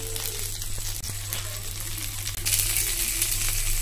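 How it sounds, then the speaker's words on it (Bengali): Chicken kathi kabab fries in a pan with a soft continuous sizzle, punctuated by a couple of brief metallic clinks and a louder hiss near the end. "একটু উল্টিয়ে পাল্টিয়ে ভাজতে হবে।"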